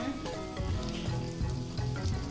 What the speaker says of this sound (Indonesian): Kita aduk sampai tercampur dengan bawang bombaynya.